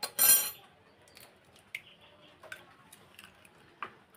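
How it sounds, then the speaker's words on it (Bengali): Two eggs cracked into a bowl for a fish chop, a sharp crack up front followed by several light, sparse clinks and taps against the bowl in a quiet kitchen. "দুটো ডিম নিয়ে নিয়েছি, দুটো ডিম ফাটিয়ে নেব।"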